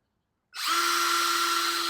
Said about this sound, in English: Got a pretty good sized drill bit here.